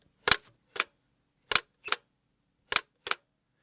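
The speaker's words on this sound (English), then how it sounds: "every time that the shutter's opening and closing" A homemade camera built from an Easter egg, loaded with photographic paper, its shutter clicking open and shut in three quick pairs of sharp snaps, close and distinct against near silence.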